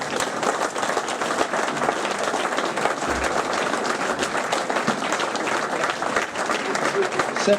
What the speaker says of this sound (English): everyone involved with that game deserves a massive, massive round of applause